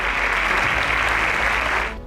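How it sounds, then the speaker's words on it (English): Audience applause at a quiz show grand finale, a dense steady wash of clapping that holds for about two seconds before tapering off at the end. "A round of applause for all of them"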